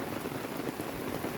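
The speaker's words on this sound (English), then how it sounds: "Today is another rainy day" Steady rain falls in Metro Manila, a dense, even patter of drops striking surfaces close by, with no voices over it.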